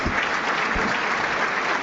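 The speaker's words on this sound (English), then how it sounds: "a period of applause in memory of" Stadium crowd at the City Ground applauding steadily in memory of a former Nottingham Forest player before a match against Newcastle United, a dense, even roar of clapping with no break.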